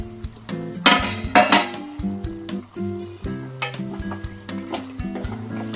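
Chicken cooking in a pan with bright clinks and scrapes of utensils against the pan over a steady sizzle, in uneven bursts.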